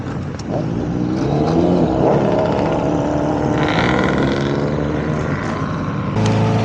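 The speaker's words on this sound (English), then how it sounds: "let's just watch the bikes leave" Motorcycles from a large group ride of over a hundred bikes pulling away from a stop: continuous loud engine roar and revving as bikes pass close by, layered throttle sounds rising and falling without a break.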